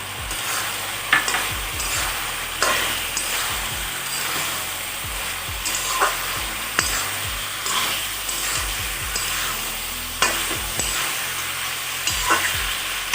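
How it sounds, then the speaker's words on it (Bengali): Green peas stirred into mixed vegetables frying in a pan, with a continuous sizzle broken by repeated scraping strokes of a spatula against the pan at a regular pace. "তো এবার আমি মটরশুঁটিগুলোকে অ্যাড করে দেব।"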